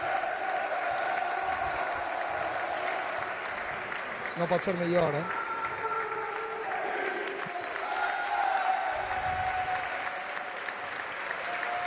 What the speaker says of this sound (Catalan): Preferís que sentiu l'ovació que està rebent l'equip.